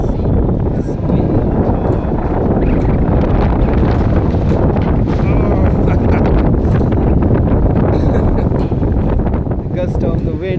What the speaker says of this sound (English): The gust of the wind passing through the court.